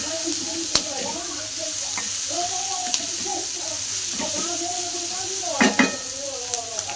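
Mutton and vegetables fry in oil with a steady sizzle, punctuated by stirring clinks and pan scrapes, while someone talks over the cooking.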